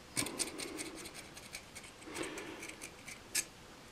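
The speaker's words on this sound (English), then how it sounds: "Just keep scraping away until you get all that off." An X-Acto knife scrapes cork residue off a saxophone neck in short, faint, repeated scratching strokes, close up and quiet with no talking.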